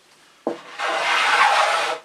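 A hand plane shaves a rounded-over edge on a wooden storage cabinet panel at a workbench: a short knock as the blade sets down, then one smooth, close rasping stroke lasting over a second.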